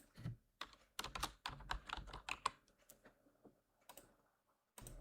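Fingers tap rapidly on a computer keyboard in short bursts of crisp, close clicks. Quiet pauses separate the bursts, and a few final keystrokes follow near the end.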